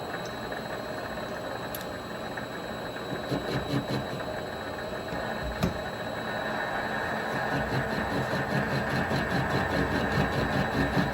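Vevor MX 400 mini lathe running at about 300 RPM, fitted with a Bostar AXA quick change tool post: a steady close mechanical hum with faint ticks and a brief sharp click or two.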